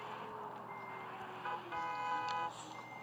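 Faint electronic beeping tones sound intermittently over a low engine hum, like a bus's reversing alarm in the video game Bus Simulator: Ultimate.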